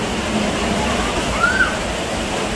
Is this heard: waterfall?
yes